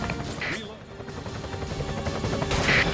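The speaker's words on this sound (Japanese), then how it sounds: "このライフルでタイヤを狙撃しろ。" Rifle shots aimed at a moving truck's tires in a SEGA light-gun shooter, House of the Dead or Virtua Cop: a few sharp cracks over rumbling vehicle noise, with voices talking throughout.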